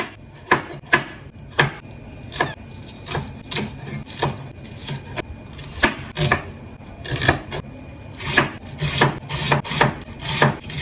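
A dull knife chops through pork belly on a wooden board, a long series of sharp, uneven knocks and scraping strokes, close and loud, with no talking.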